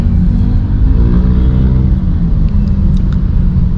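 A 2010 Honda Jazz RS automatic (GE8) driving along, its engine and road rumble a steady, loud, continuous drone from start to finish, with no voices.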